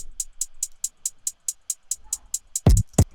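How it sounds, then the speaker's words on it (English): Simple electronic hi-hats tick in a steady, even pattern from a dance track, crisp and bright, with two kick thumps joining near the end. "Then we just had some simple hi-hats."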